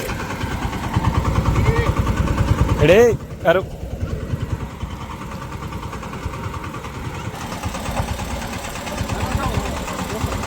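A tractor engine runs steadily at a low rumble during a sowing ceremony on a farm, with people talking over it and a brief pause in the middle.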